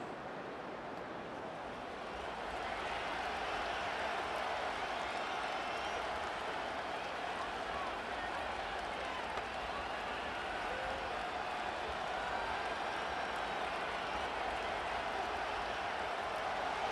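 A steady, distant roar from a large stadium crowd in Madden NFL 25, Jets vs Steelers, swells after a couple of seconds and then holds as a continuous wash of noise.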